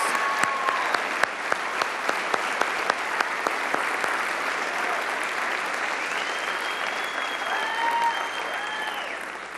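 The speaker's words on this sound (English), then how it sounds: "Please give them a warm round of applause for the thousands of volunteers who make Art Prize a success" A large audience at the ArtPrize finale gives the volunteers a sustained round of applause, dense and even throughout, with faint voices underneath.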